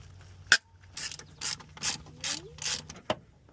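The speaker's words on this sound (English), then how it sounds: "So now from the other side, we got to take our starter bolts out." A ratchet loosening the starter bolts on a second-generation Eclipse GSX transmission, with a sharp knock followed by about five quick clicking strokes in a steady rhythm, close up, and no speech.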